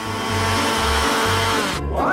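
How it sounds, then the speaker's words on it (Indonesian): A handheld electric mixer whirs steadily through grated cucumber and egg batter, its motor droning loud and continuous with slight pitch wobbles before easing off near the end. "Aku akan melakukannya dengan cepat menggunakan mixer tangan ini."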